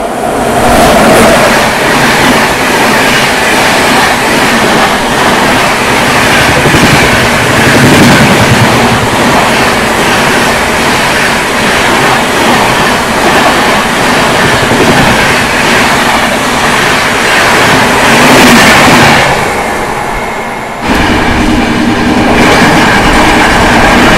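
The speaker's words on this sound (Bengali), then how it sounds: "রাজধানী এক্সপ্রেস নিউ দিল্লি যাবে, দেখো স্পিড দেখো রাজধানী।" The Rajdhani Express passes at speed, a loud, continuous roar of rushing wheels and rattling coaches with rhythmic clatter, cutting off abruptly near the end as the last carriage clears.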